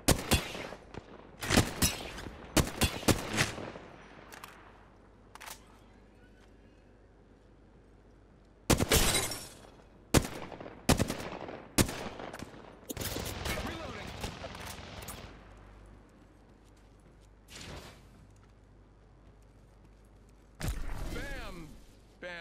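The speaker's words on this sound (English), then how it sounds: "Opening fire." Repeated bursts of automatic gunfire ring out in a video game set on the Mirage map, sharp volleys with short pauses between, some close and loud, others quieter, over a low background hum.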